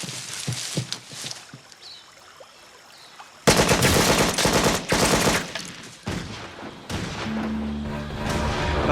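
Bursts of machine gun fire in a sea patrol scene, loud rapid volleys that start suddenly and come again in waves, mixed with boat engine noise and scattered single shots.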